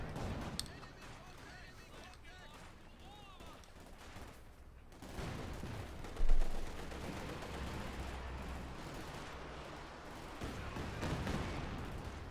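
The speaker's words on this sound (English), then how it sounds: "Katusha flying, floating rockets off." Dense, continuous rumbling barrages and gunfire from Katyusha rocket launchers fill a Company of Heroes 2 battle, with a louder blast midway, all under a commentator's running talk.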